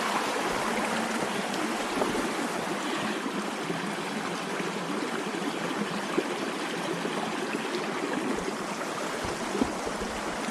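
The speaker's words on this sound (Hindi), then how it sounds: "कैसी आ रही आवाज़ पानी की, कल कल मीठी मीठी आवाज़ आ रही ना" A mountain stream in a Uttarakhand hill village rushes and babbles steadily, close and continuous, with no voices over the flowing water.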